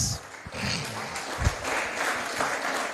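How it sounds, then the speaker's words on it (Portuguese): A church congregation stands and applauds, giving dense, sustained clapping close by for the whole stretch, with a few louder thumps and faint voices mixed in. "Então se coloque de pé e podem aplaudir ao Senhor Jesus."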